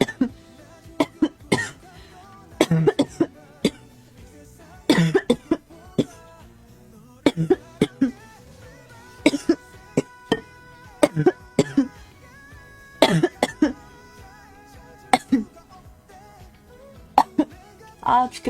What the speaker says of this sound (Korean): 이게 기침이 너무 나와서 물 마실 틈이